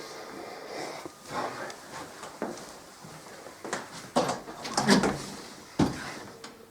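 Indoor door being opened and closed repeatedly, a series of irregular knocks, thumps and latch clatters at moderate distance over a low background hum, no speech.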